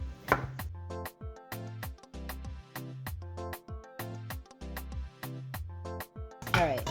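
Knife cutting potatoes into thin rectangles for French fries, a steady series of crisp chops on a cutting board at a quick even rhythm, close and clear.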